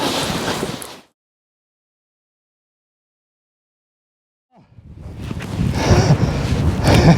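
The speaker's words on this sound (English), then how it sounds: "it's really windy now." Heavy wind buffeting a microphone in loud roaring gusts while paragliding, cutting out to silence for a few seconds before blasting back in.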